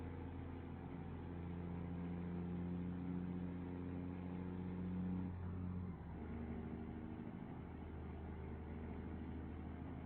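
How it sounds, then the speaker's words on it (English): A truck engine in a trucking video game drones steadily with a low, even tone, shifting pitch about midway as gears change, then settling into a new steady hum. "You can hear when the engine wants to shift."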